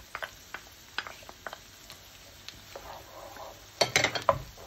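Garlic sizzles in a frying pan as a utensil stirs it, with sparse light clicks and taps against the pan and a louder burst of scraping and sizzle near the end.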